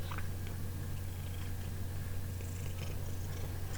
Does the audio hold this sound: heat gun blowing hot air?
no